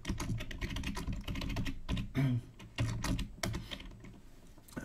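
Forth code being typed on a computer keyboard: a fast, steady clatter of close key presses running the whole time, with short uneven pauses and no speech.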